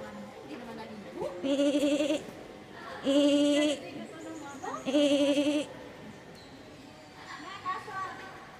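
A person imitates a goat's bleat three times in a row, each a drawn-out nasal 'meh' with wavering pitch, close and fairly loud, with casual talk in Filipino around the calls.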